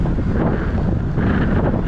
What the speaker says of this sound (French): Alors je sais pas si vous entendez, je pense que oui, mais ça souffle.